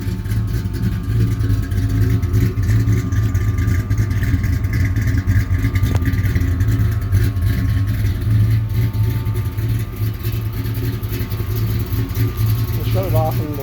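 A Chevy 350 V8 in a 1987 S10 shop truck runs at a low idle, a steady deep close-up drone that holds without any clear revving.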